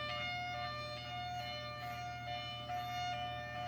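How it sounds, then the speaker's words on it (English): A high-low siren sounds steadily, its loud tone alternating between two pitches over a low mechanical hum, with no voices. "In a rare instance, there's a high-low sound, which is sometimes used for fires"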